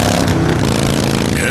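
A motorcycle engine revs loud and close, a gritty, throaty roar rising and holding through a short burst.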